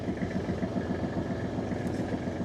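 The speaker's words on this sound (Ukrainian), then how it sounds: "Ой, працює трактор добре." A Kubota GL25 compact tractor's diesel engine runs steadily just after starting, a close, even idling rumble with a fast regular pulse and no voices over it.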